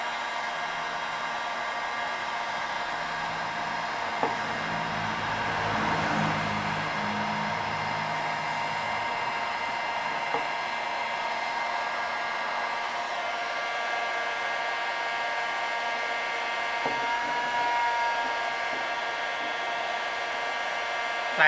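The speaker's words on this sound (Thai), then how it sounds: "เราก็เป่ามันเลยครับ" A hair dryer blows hot air onto a glued PVC pipe fitting, a steady close whirring hiss with a faint motor hum that runs on without a break, with small occasional knocks and no talk.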